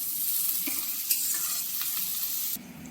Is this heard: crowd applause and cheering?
no